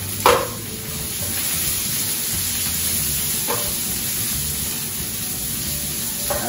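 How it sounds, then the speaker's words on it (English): Shallots stir-frying in a pan, a steady dense sizzle throughout with two or three brief utensil knocks against the pan; close and even, with no talking. "It's going to make it easy for me to stir fry it in the pan."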